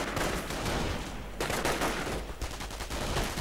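Dense, loud bursts of overlapping automatic gunfire from MP40 submachine guns in a World War II strategy video game battle, continuous rattling volleys with brief pauses.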